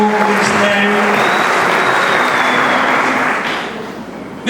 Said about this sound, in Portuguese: Uma salva de palmas aí para o pastor, para o ministério